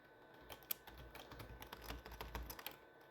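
Fingers type in quick irregular bursts on a computer keyboard, with crisp close clicks and a few sharper key strikes, quiet and alone with no talking.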